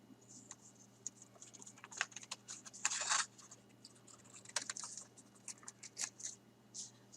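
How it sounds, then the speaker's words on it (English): Scissors snipping through a thin Dollar Tree paper doily to halve it, a quiet run of small crisp cuts and rustles with one louder burst of paper noise midway. "I am just going to cut the doily in half"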